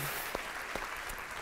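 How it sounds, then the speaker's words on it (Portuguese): Dense, steady applause from a church congregation during a sermon, a continuous wash of clapping with a few louder claps standing out. "Dá um aplauso aí."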